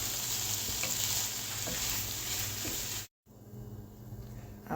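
A spoon stirs a pan of mushroom, pea, carrot and corn filling with a splash of water added, giving a steady close sizzle and scraping that cuts out sharply near the end, then resumes more quietly.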